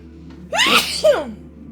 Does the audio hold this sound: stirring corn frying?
no